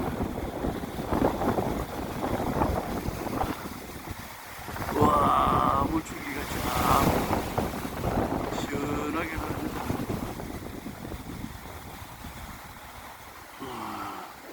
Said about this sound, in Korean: 물줄기가 시원하게 떨어집니다